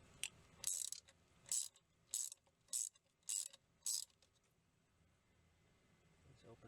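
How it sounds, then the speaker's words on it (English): Ratcheting 15mm wrench turning a radiator bleed valve on a 2000 Ford Mustang V6 3.8L: six quick, sharp clicking bursts in an even rhythm, close and crisp, then quiet. "Now I'm going to be using a 15mm wrench. I'm using a ratcheting one."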